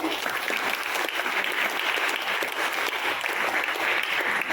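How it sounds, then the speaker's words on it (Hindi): Audience applause fills a training program session in Saharanpur, a steady dense wash of many hands clapping at constant loudness throughout, with no speech over it. "एक बार एक और जोरदार ताली अपने।"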